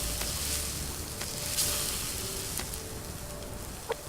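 Rabbit meat cooking over a fire in the survival video game Subsistence, a soft, steady sizzle and crackle with a few faint pops and ticks, quiet and continuous without voices.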